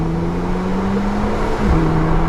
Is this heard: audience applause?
no